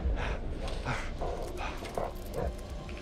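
A puppy in the horror video game The Devil In Me gives a run of soft yips and whimpering barks at a steady rhythm over a constant bed of ambient game noise.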